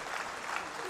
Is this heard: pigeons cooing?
no